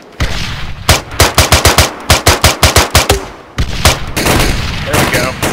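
Rapid automatic gunfire from the ArmA 3 video game comes in loud, closely spaced bursts of sharp cracks, pauses briefly, then resumes with more shots and rumbling battle noise.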